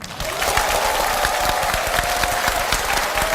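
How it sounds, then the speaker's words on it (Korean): Sustained audience applause following a political speech delivered in Daegu, steady and dense throughout with a faint tonal hum running beneath the clapping. "뜨거운 박수 부탁드립니다."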